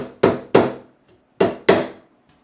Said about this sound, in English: It's a new fret hammer